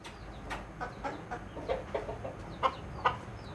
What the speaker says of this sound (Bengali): কবুতর বারবার করে ডাকতেছে